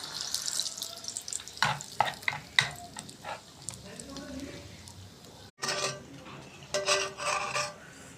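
Malpua sweet pancakes fry in a pan, giving off a busy sizzle broken by scraping and stirring strokes, while a voice talks over the cooking.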